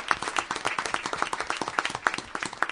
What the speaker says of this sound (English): all your parents and your friends deserve a round of applause